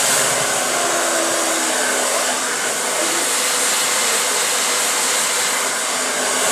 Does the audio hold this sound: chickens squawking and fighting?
no